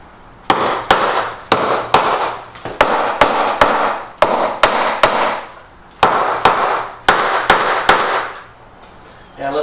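Repeated sharp strikes of a soft brass hammer cinching bolts down on an air hose reel mount, landing in quick bursts of three or four close, loud blows with brief pauses between groups.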